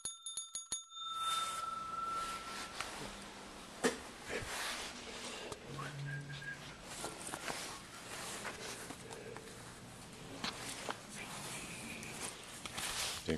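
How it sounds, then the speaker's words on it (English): A bicycle-type bell dings sharply at the start, clear and close, followed by room noise and faint rustling movement with no talk. "Just ring the bell in."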